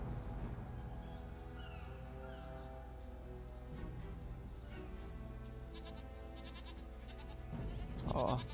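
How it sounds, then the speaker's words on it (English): Goats bleat in a rural village in the video game Jade Empire, with repeated calls over a steady ambient game background and a brief louder burst near the end. "Aw, hi goats."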